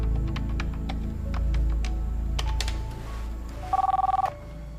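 A telephone rings with a short burst of trilling electronic bell tones near the end, heard over a sustained musical drone with scattered soft clicks.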